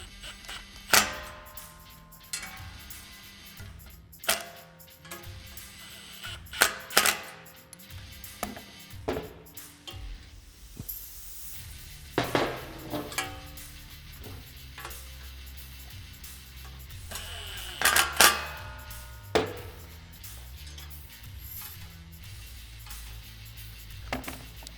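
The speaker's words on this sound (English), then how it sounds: "Now we're going to go ahead and fully tighten our stopper hardware." Hardware on a Polaris Ranger 1000 bed extender gets tightened by hand, producing intermittent metallic clicks, ratcheting and small clanks at close range with pauses between bursts.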